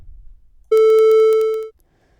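A steady, bright electronic tone from a kick drum mixed with a triangle, made in a synth plugin, sounds for about a second, starting abruptly and fading out, heard alone.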